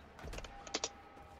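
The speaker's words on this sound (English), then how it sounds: "I tried typing in unstuck." A few quick keystrokes on a computer keyboard during a Warframe gaming session, soft clacks in two small clusters, faint against a quiet room.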